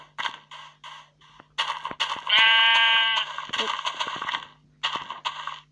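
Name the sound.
sheep bleating at night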